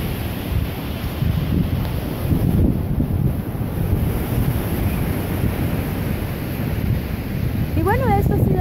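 Sea waves wash onto the shore at Brighton, England, a steady broadband roar under heavy wind buffeting on the microphone, with a brief rising tone near the end.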